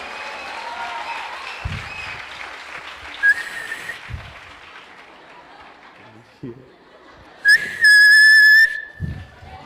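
A church congregation at a sermon applauds steadily, with sharp whistles rising twice over the clapping while a preacher speaks.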